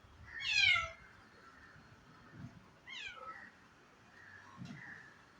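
A cat meows three times indoors, a loud near meow first, then two softer ones, with low household noise in the background.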